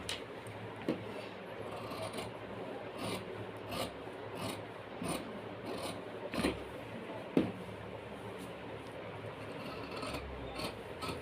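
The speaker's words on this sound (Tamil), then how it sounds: "இப்போ நம்ம இந்த கையை கட் பண்ணி எடுத்துக்கலாம்." Tailor's scissors cut a blouse sleeve from cloth, making close, repeated rasping crunches as the blades chew through the fabric at an uneven rhythm.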